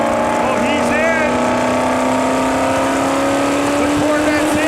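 Drag cars, including a Corvette, idle and creep into the staging beams at Lapeer Dragway, a loud steady engine drone with rising tones under crowd noise and announcer talk, not yet a full launch.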